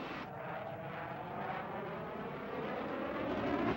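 A MiG-21 jet approaching an airfield gives a steady, broad roar that swells slightly louder as it nears, with no talking.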